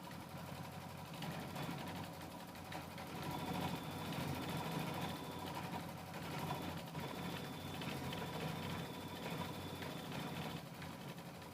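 Embroidery machine stitching a quilt appliqué, a steady mechanical hum and rapid needle vibration running continuously at moderate, even loudness with no talking.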